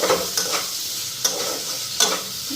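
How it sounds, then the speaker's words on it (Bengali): Catla fish head frying in hot oil in a home kitchen, a soft steady sizzle with a few sharp clinks of a spatula stirring the pan at intervals, close and moderately loud. "ভালো করে এখন লাল করে ভাজিয়ে আনি"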